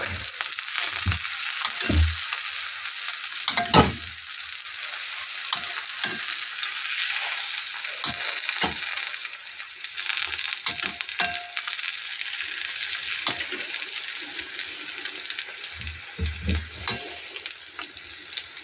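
Bread fries in a pan with a steady, close hiss of sizzling oil, broken by occasional utensil clicks and taps as it is moved around.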